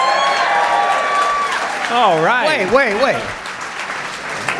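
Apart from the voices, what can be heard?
audience applause and yelling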